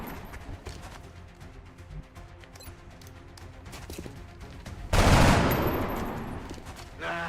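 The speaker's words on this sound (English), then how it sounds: "We're going to gang shoot over here now." Gunfire in the strategy game XCOM Long War rattles in a long run of rapid clattering shots, followed by a heavy, loud blast that fades out, then another sharp hit at the end.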